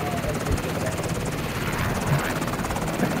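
Helicopter in the video game The Division 2, a steady continuous rotor and engine drone filling the background while people talk over it.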